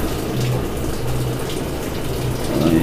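A Samsung automatic washing machine refills with water, a steady loud rushing flow of tap water pouring into the drum with no voices.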